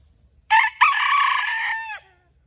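A Malaysian junglefowl rooster crows once, loud and close, a drawn-out cock-a-doodle-doo lasting about a second and a half, with no other sounds around it.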